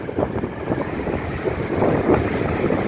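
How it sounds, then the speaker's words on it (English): Strong hurricane wind from Hurricane Michael roars at Stump Pass beach in Englewood, Florida, a loud continuous buffeting rush that batters the microphone, with no voices. "Yeah, that wind's really ripping through here now."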